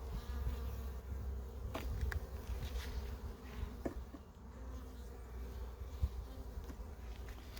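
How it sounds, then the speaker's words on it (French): Bees buzz steadily close by, a dense low drone with occasional louder passes of individual insects. "J'ai des abeilles de toutes les couleurs là-dedans."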